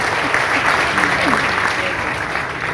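An audience at an award event in a hall applauds with steady, dense clapping throughout, loud and continuous without a break.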